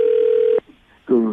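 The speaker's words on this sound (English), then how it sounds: "I just dialed, man." A landline tone drones steadily, breaks off for a short pause, then stacked dialing tones start up, all crisp and close.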